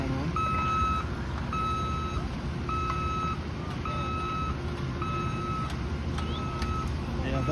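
Reversing beeps from a construction truck at a cold-weather concrete road pour sound in a steady series of regular tones over a loud diesel drone, with occasional talk.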